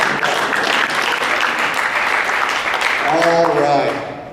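A fraternity audience gives a big round of applause at a comedy show, loud dense clapping filling the room, with a voice rising over it near the end.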